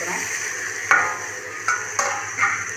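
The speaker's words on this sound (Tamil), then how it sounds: "இப்போ இதை நல்லா வதக்கிக்கலாம்" Potatoes with chillies and tomato sautéing in a pan, a continuous close sizzle broken by a few scraping strokes of the spatula stirring at uneven intervals, with no talking.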